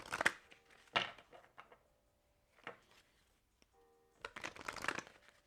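Tarot cards are shuffled in a few quiet, crisp riffling bursts separated by near-silent pauses, close and soft.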